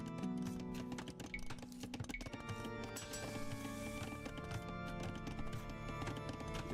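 Horse hooves clip-clopping in Age of Empires 2 during the Tamerlane campaign, a quiet rhythmic patter mixed with other game effects and tonal sounds, fairly faint and continuous.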